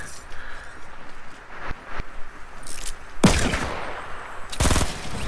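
Fortnite gunfire in bursts: a few sharp scattered shots early, then two loud dense volleys near the end over a busy game background, with no talking.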